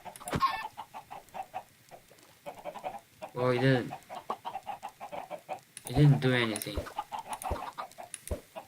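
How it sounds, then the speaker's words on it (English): Chickens cluck in a blocky video-game egg farm, with short repeated clucks and squawks scattered through the clip, sounding close and fairly loud, while someone speaks briefly over them. "Let me get one more chicken in there."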